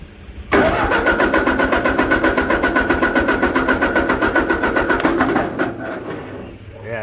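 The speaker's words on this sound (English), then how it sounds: "Let's see if she'll fire up." A Ford 8N tractor engine cranks with a rapid rhythmic chug for about five seconds, then catches briefly and stumbles down, loud and close.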